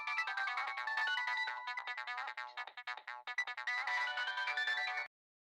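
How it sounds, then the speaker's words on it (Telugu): A phone ringtone plays a bright, repeating electronic melody close by for about five seconds, then cuts off abruptly into silence. "ఏవండి, ఫోన్ వస్తుంది."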